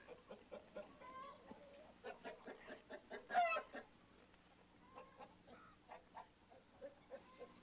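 Chickens cluck around eggs in a henhouse, a run of short, close clucks spread across the stretch with one louder squawk near the middle.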